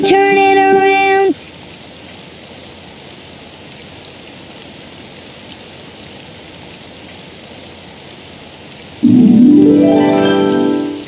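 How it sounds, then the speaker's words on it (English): Steady rain falls outside as a soft, even hiss through the middle of the scene, framed by louder musical passages at the start and end; no one speaks over it. "It's raining outside."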